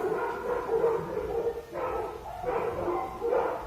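Several dogs barking in a played-back recording, a repeated series of muffled, slightly distant barks and yips in bursts, with no talking over them.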